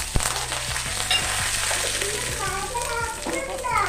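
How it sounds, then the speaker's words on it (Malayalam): Mustard seeds, dried red chilli and curry leaves crackle and sizzle loudly in hot oil, with sharp pops scattered over a constant frying hiss and faint background voices. "ലേശം കരിവേപ്പില കൊടുക്കുന്നുണ്ട്."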